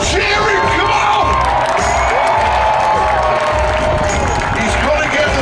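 A large crowd at a UK monster truck show cheers, shouts and whoops without a break, with children's voices and clapping mixed into the loud, continuous roar.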